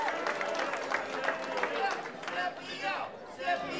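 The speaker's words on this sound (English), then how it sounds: "A warm reception by this crowd here tonight for Big Sep." A wrestling crowd at a Primetime Wrestling event applauds and cheers a wrestler's entrance, a steady wash of clapping and crowd noise at moderate distance with a commentator talking over it.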